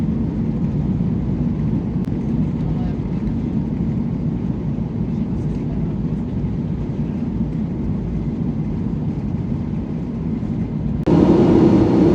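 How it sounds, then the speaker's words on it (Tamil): Airplane cabin shaking in turbulence mid-flight, a steady loud engine and airflow roar that holds throughout, then a sudden brighter, louder surge near the end. "ஃப்ளைட் ஆடுது. டர்புலன்ஸ்"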